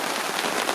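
Steady rain falling on a spring hunting camp, a dense, even hiss of drops on surfaces, loud and continuous with no talking.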